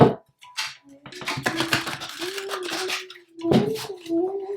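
A deck of tarot cards is shuffled in quick bursts, crisp papery riffles and flicks close up, with a soft hum underneath and short pauses between shuffles.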